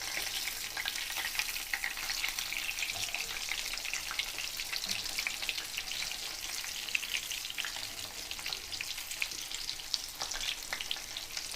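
Pomfret fish coated in green masala sizzles in coconut oil in a pan, a steady crackling hiss with fine pops throughout, close and alone with no talking.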